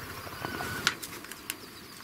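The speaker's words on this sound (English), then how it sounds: "we've got some birds flying around out in front of us" Birds flapping their wings as they fly near a duck hunting spot, a few brief soft flutters and light bursts over faint outdoor background, no voices.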